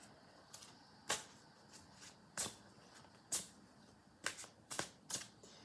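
Tarot cards are shuffled close up in quiet surroundings, giving a series of crisp riffling snaps at irregular intervals.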